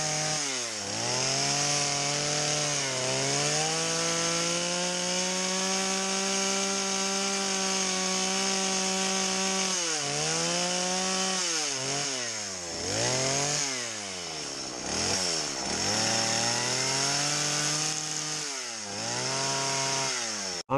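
A chainsaw carves a bear from a wooden log, its engine droning loud and close at a steady cutting pitch, then revving up and down in quick bursts as it shapes the wood.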